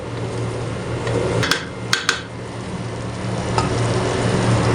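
Boiled rice being mixed into a pot with ghee for sweet zarda, a soft continuous stirring scrape with a few sharp clinks of a spoon against the pot, no voices.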